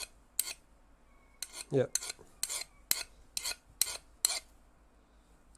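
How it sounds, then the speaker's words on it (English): A metal file rasps across the hardened steel rods of a Prusa Mini 3D printer in about eight short, close scraping strokes with uneven gaps. One brief spoken word comes near the end. "it's taking some of the dirt off of the file, but it's not really leaving any, in fact, usually 0 marks on the actual steel"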